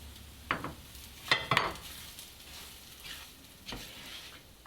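Roasted semolina being stirred into fried onions and turmeric in a pan: a low sizzle under several distinct scraping strokes of a spoon against the pan, spaced irregularly, with no talking.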